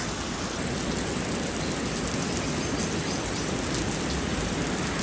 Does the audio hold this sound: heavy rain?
yes